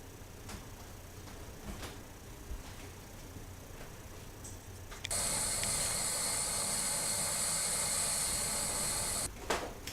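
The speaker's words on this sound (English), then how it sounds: "so that noise you heard was like steam and everything starting to build" A pressure cooker filled with Asian chicken and vegetables builds pressure: quiet kitchen ambience, then a loud, steady hiss of escaping steam bursts in and holds for several seconds before cutting off abruptly.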